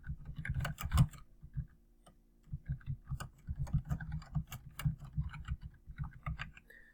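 A note being typed on a computer keyboard: quick, uneven runs of close key clicks with brief pauses between words, clear and alone without talk.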